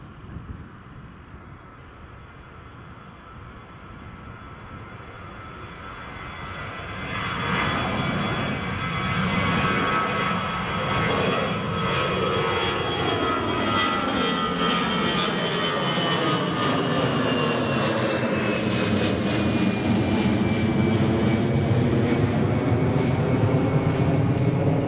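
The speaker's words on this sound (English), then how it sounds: "Here's the EasyJet heading up and away." An EasyJet passenger jet climbs away after takeoff from Newcastle International Airport, its engine roar swelling from a moderate rumble into a loud, sustained jet whine that sweeps and shifts in pitch as it passes and departs.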